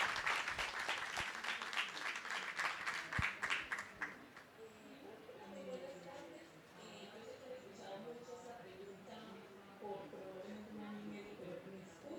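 An audience at a talk claps in steady welcoming applause for several seconds, then the clapping fades out as a room murmur and a voice carry on.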